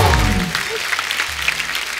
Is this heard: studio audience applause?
yes